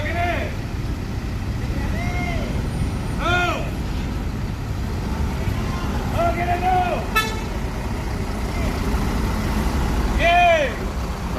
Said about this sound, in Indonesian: Ya, bus akan parkir mundur.